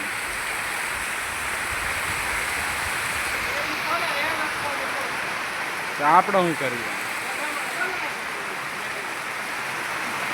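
Heavy rain pours down in a village, a steady, dense hiss that fills the whole stretch without letting up, while a voice speaks briefly in the middle.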